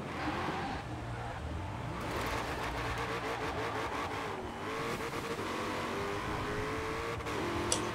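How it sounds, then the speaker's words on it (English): A car engine in Forza Horizon 4 sits on the rev limiter, holding a continuous high, buzzing drone with slight stutters throughout, over low game background sound. "If I let it sit on the rev limiter till like 96 miles an hour, it'll stop spinning"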